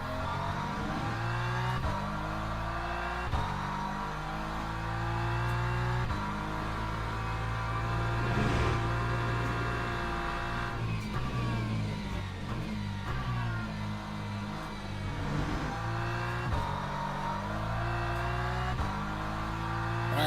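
Race car engine in the Le Mans Ultimate sim racing game, running with suspension damage after a crash, droning and revving steadily for the whole stretch with rising and falling pitch, loud and close, no talk over it.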